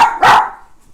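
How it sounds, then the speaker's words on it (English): A single sharp, high-pitched bark from a small dog, close by, followed by a short fading tail into quiet. "Excuse my little dog. He's my daughter's dog and very noisy"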